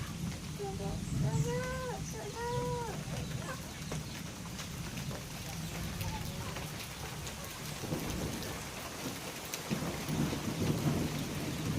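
Steady rain patters on a surface while low thunder rumbles; a few animal calls sound early on, and a voice speaks faintly underneath.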